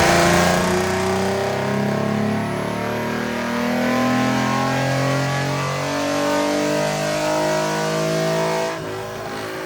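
Ford performance cars with manual transmissions rev hard on a dyno, among them a Shelby GT350, Explorer ST, Cadillac ATS-V and Mustang V6. A loud, sustained engine note climbs steadily through the pull, then cuts off sharply near the end.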